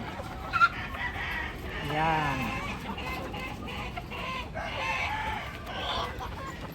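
Hens cluck and murmur steadily around the listener in a poultry yard, with a rooster's drawn-out crow rising in the middle, all fairly close and unbroken by speech.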